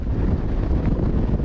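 A strong wind roars across open hill country in a loud, steady, close rush that batters the microphone throughout, with no voices.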